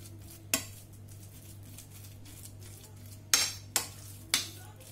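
Spoon stirring a spinach and cheese filling in a bowl, a few sharp clinks and scrapes against the bowl over a low steady background hum.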